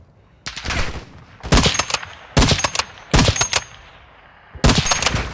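Video-game gunfire shoots at the player in five sharp, loud bursts of rapid machine-gun fire, separated by short quiet gaps.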